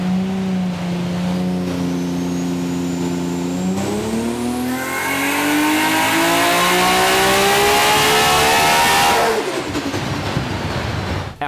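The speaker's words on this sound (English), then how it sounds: "it wasn't long till we had our first dyno run" Turbocharged Nissan GT-R with a Garrett G35-1050 turbo on a dyno pull, engine droning steadily then rising smoothly in pitch to a loud high-rev wail before backing off sharply.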